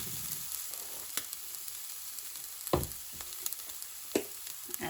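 Jarred garlic, soaked in liquid, sizzles in a hot pan with a steady close crackling hiss, broken by a few louder pops and stirring clicks.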